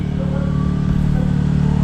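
A Yamaha Sniper 155 motorcycle engine runs steadily and loudly up close, holding a constant revving drone for the whole stretch with no talk over it.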